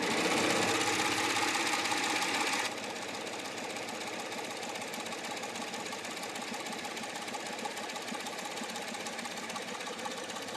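A serger sews an overlock rolled hem, running as a steady fast mechanical whir that is louder in the first few seconds and then continues evenly at a slightly lower level with no talk.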